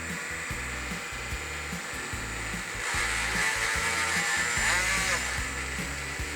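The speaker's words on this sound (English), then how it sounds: "the cup brush is not tightened enough in the chuck" A cup brush spins in a drill chuck that is not tightened enough, making a steady mechanical whir with a wobbling, rhythmic chatter that grows slightly louder midway.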